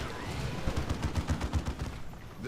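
Rapid, overlapping bursts of bolt pistol gunfire from Space Marine Assault Marines in a Warhammer 40,000 battle video game, a continuous fusillade of muffled shots at moderate loudness.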